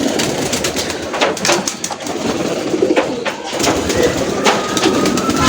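A domestic pigeon that has recently hatched young coos loudly and close by, a repeated throaty warble with clicks and rustles mixed in, no speech over it.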